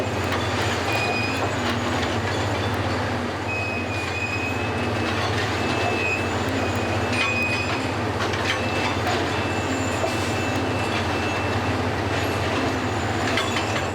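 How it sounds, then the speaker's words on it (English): A track renewal train pulls out rails and places ties, producing a loud, continuous low rumble of rail machinery with metallic squeals and clanks throughout, with no talk. "the original and new rails are being pulled out of place and set to the outside"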